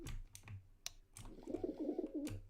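A pigeon in the Dark RP video game gives a short run of throaty, pulsing coos. A few sharp clicks and taps come just before it.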